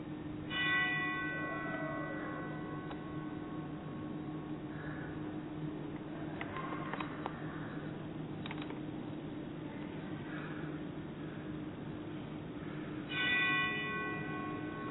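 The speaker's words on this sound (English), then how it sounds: "I hear a bell ringing." A bell rings twice in a historical museum in Adrian, Michigan, at the start and again near the end, with bright lingering tones over a steady low background hum.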